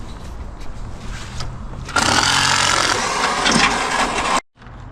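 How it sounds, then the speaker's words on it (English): A loud hammer drill suddenly roars to life after a quieter mechanical rattle, grinding and hammering steadily up close as it drives a stake, then cuts off abruptly. "So the hammer drill on the stake and the sawzall with no blade,"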